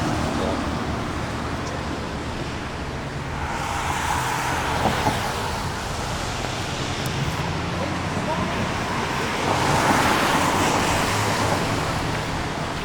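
Steady roadway traffic near a highway overpass: a continuous broadband roar of passing cars with a windy, surf-like wash that swells around the middle and again toward the end.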